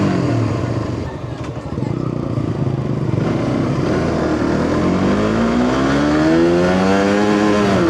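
A Suzuki GSX-R motorcycle roars close by under a steady, loud engine drone, its pitch climbing noticeably as it accelerates toward the end.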